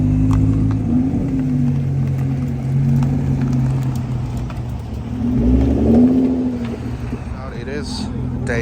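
A Lotus Evora GT sports car rolls past at a car meet, its engine note swelling and fading twice as it moves by at low speed, with people talking over it.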